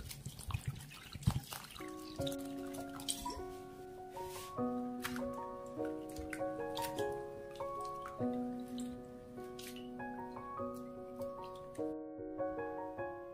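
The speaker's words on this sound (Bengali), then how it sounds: "এইবার আলুগুলোকে আমি ভালোভাবে জল দিয়ে ধুয়ে নেব।" Sliced potatoes being rinsed in a bowl of water at home, with soft trickling and dripping sounds running steadily under prominent background music.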